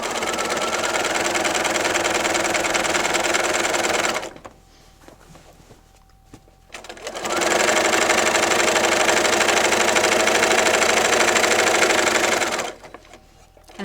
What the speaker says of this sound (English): I am back stitching when I'm picking up where I had stopped sewing.